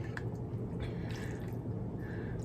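Dolls are swished through warm water mixed with Oxy cleaner, giving soft close sloshing and small drips in an irregular rhythm at low volume.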